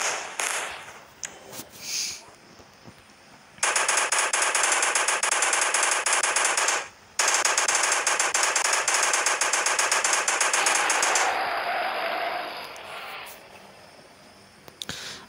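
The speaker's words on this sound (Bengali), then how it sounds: "এর মেশিন গান দিয়ে একটু আহত মেরে দেখি।" Rapid automatic machine-gun fire in the Indian Bikes Driving 3D video game, two long sustained loud bursts separated by a short gap, then trailing off into quieter game ambience.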